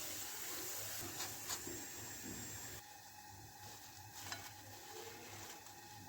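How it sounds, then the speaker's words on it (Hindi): Potato fries frying in hot oil give a soft, steady sizzle and hiss, with occasional stirring scrapes and faint clinks, fairly quiet and without talk. "इसी तरह से हम अपनी सारी फ्राइज़ फ्राई कर लेंगे।"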